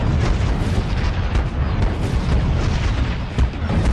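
Missiles fire and explode in the Bolt video game, a dense, continuous barrage of loud booms and blasts that rumble without a break, with no talking over them.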